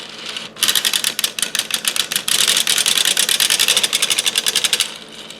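A 3D printed knitting machine carriage slides forward across its needles with a loud, fast, steady mechanical clatter of rapid rhythmic ticks lasting several seconds, heard alone and close by.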